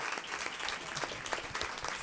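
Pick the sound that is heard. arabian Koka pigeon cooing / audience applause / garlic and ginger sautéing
audience applause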